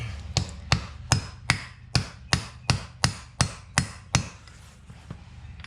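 A 3-pound hammer strikes a stuck Honda CR-V passenger-side axle about a dozen times in a steady rhythm, each blow sharp and ringing, close by, with no talking.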